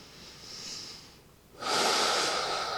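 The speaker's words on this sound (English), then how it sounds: "We'll begin waking ourselves back up by first taking some deeper belly breaths" Slow, deep belly breathing during a yoga cool-down: a soft inhale or exhale, a brief pause, then a louder, fuller rush of breath held close and steady, with no talking.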